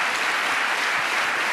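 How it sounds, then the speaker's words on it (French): Dense, steady applause fills a hall at an innovation and new-technologies award ceremony, a full audience clapping together without a break. "On peut les applaudir."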